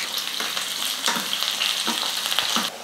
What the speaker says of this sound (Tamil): வெங்காயம்லாம் நல்லா கலர் மாறுற அளவுக்கு நல்லா வதக்கிக்கலாம்.